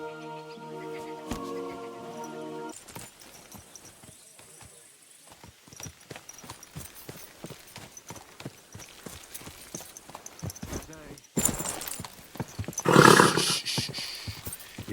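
Horse hooves clip-clop at a steady walking pace in Kingdom Come: Deliverance 2, a medieval role-playing game. A short musical phrase plays at the start, and a louder burst of noise comes near the end.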